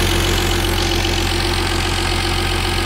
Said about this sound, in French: les petits tics qu'on entend, c'est les injecteurs